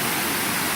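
Water pours off a rock at a round waterfall in nature, a loud, close, unbroken hiss of falling water with no voices.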